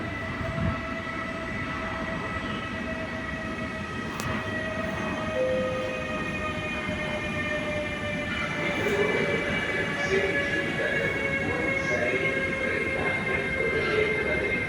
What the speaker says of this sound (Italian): Attenzione, treno in arrivo al binario 8.